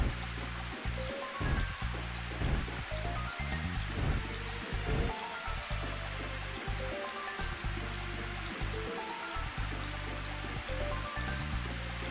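Waterfall in the PlayStation role-playing game Arc the Lad, a continuous rushing, splashing water sound, steady and fairly quiet throughout with no voices.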